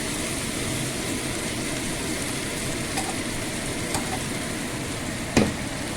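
Nigella seeds fry in hot oil alongside already-fried garlic, chillies and bottle gourd seeds, giving a steady, close hiss with a few faint ticks and one sharp click near the end.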